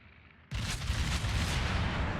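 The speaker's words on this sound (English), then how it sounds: "So 4 torpedo hits there." Torpedoes striking a ship in the naval video game World of Warships, a sudden loud explosive boom after a quiet moment, followed by a sustained dense roar that fills the rest of the short moment.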